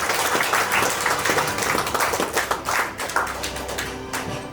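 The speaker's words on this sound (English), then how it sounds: "please give a big round of applause for Chef Suresh Khanna" An audience applauds a chef at a culinary and patisserie institute's tenth-anniversary event, a dense, close burst of clapping for several seconds that thins out slightly toward the end.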